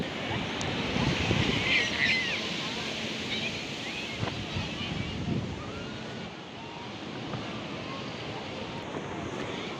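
Surf washes steadily onto a seaside beach beside a tent, a continuous broadband roar of waves mixed with gusting wind buffeting the microphone, loud and unbroken throughout.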